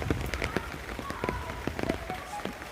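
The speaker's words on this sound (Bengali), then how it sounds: "আর এখান থেকে বৃষ্টিময় আবহাওয়াটা দেখুন।" Rain falls during rainy weather, a busy patter of drops tapping a surface in quick irregular clicks against a steady hiss.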